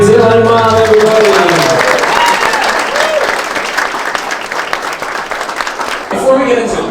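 Wedding guests break into loud, sustained applause with a few cheers after a voice speaks at the start, the dense clapping carrying on for several seconds before talk resumes near the end.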